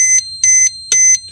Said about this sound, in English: the alarm, you know, the a buzzer to locate your fallen helicopter